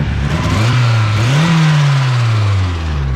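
A boosted 1.6-litre Mazda Miata on stock pistons and rods, running about 14 psi, revs loud and close, its engine pitch rising, dipping and swelling again in a continuous strained drone.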